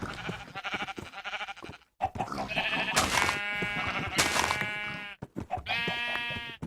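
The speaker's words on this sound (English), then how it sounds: "These are sheep." Sheep bleating in Minecraft: a series of loud, close, wavering baas, several separate calls in quick succession with short pauses between them.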